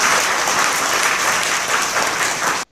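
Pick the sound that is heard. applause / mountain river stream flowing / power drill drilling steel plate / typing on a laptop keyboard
applause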